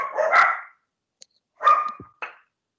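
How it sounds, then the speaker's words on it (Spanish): Small dogs bark at people passing in the street outside a home, a burst of loud, close, agitated barks, then a pause and a second shorter flurry of yaps and a final bark. "Se oye el ruido de mis perritos porque están peleándose con la gente que está pasando en la calle."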